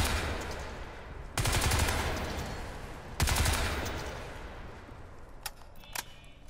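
Two loud bursts of nanosuit weapon fire in Crysis 3, each a sharp onset decaying over a couple of seconds, followed by a few faint clicks against quiet background.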